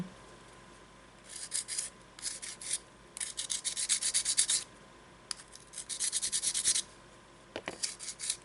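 Sandpaper rubs over small dried air-dry clay earrings in several short bursts of quick, raspy back-and-forth strokes, close and fairly quiet, with brief pauses between passes.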